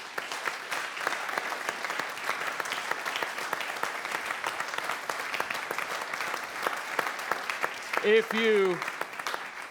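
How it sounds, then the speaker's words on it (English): Political debate audience and candidates applauding together, a steady crackle of clapping throughout, with a brief voice near the end. "Audience and candidates, give yourselves a round of applause"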